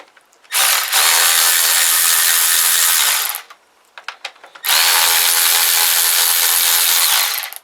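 A hand ratchet loosens bolts on the top end of a Kawasaki GPZ500S engine during a teardown. Two long bursts of rapid, loud clicking are split by a short pause with a few scattered clicks, and no voices.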